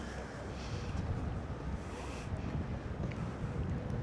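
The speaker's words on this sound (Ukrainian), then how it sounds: "Це досить типовий порт для кожного маленького містечка тут в пульї." Wind buffeting the microphone at a small fishing port in Puglia, Italy, a steady low rumbling roar throughout, with faint water and boat noise beneath it.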